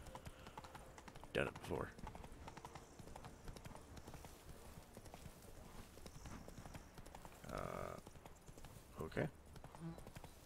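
Rhythmic clip-clop of horse hooves in The Witcher 3: Blood and Wine game soundscape, with someone talking briefly over it and occasional louder thuds.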